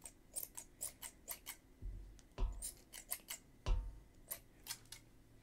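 Small scissors snip repeatedly at nylon strings on a crocheted fuzzy bunny bag, quiet, close, crisp clicks in an uneven rhythm with a few heavier handling bumps between cuts.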